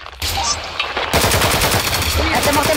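Gunfire in the Roblox tactical shooter Hellmet, with loud close bursts of rapid automatic shots after a brief lull, continuing densely to the end.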